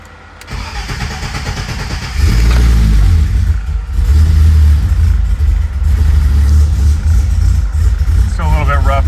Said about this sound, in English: Still a little bit rough on the startup tune here.